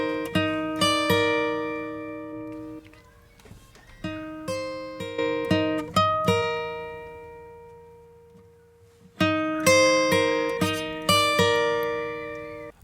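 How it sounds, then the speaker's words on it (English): Dry acoustic guitar recorded without reverb, plucked chords and single notes with crisp attacks and short natural decay, played close and alone in several phrases with a brief pause midway. "with a dry recorded sound like this acoustic guitar"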